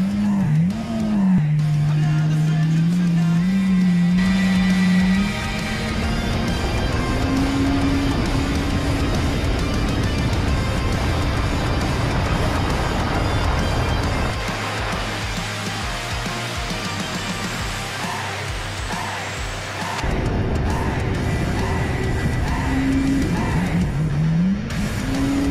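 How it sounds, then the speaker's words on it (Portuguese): A Yamaha GP1800 jet ski prepared for racing accelerates hard, its engine note rising and falling in loud sustained revs, with a sharp pitch change midway and strong engine roar throughout. "Confira agora o piloto Jefferson Gomes acelerando forte o seu GP 1800"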